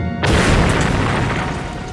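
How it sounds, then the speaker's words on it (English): A bomb explosion sound effect recalling a blast on Orchard Road in Singapore: a sudden loud boom after a brief quiet start, followed by a dense, roaring, slowly fading crash that fills the rest. "It was a powerful explosion"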